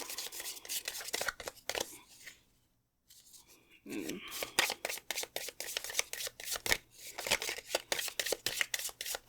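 Oracle cards are shuffled close up in quick, rhythmic riffling bursts, with a brief pause midway before the papery flicks resume, steady and crisp.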